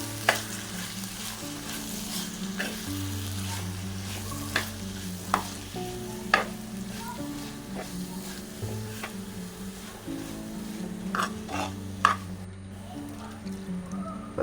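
Tomato and ground coconut paste being stirred in a pan for a Kerala-style fish curry: soft scraping and stirring with occasional sharp spoon knocks over a low, steady background hum, with no talking.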